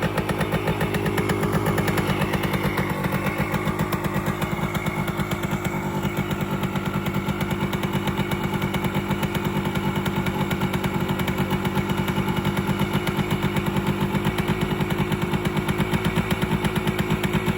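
A 1976 Kawasaki KE 125 motorcycle with its choke off idles loudly and steadily nearby, its two-stroke engine putting out an even, rapid buzzing putter that holds the same pace throughout.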